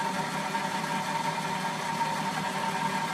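A drill press spindle turns at about 600 RPM, giving a steady, even mechanical hum with a faint tonal whine that holds unchanged throughout, with no talking.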